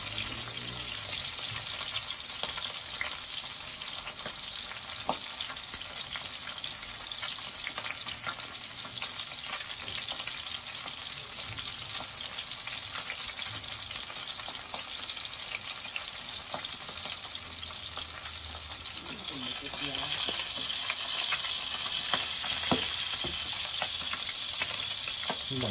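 Marinated milkfish (daing na bangus) fries in a pan with a steady, dense sizzle and crackle that continues unbroken, close up and without talk, swelling slightly louder toward the end.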